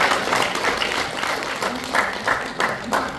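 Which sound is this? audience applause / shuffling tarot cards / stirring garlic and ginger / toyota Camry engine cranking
audience applause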